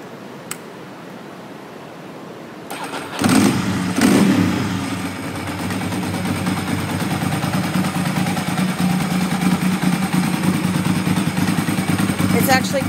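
A 2002 Ducati 748 motorcycle engine fires up after a short quiet stretch and then settles into a loud, steady, throbbing idle that runs close to the microphone for the remainder.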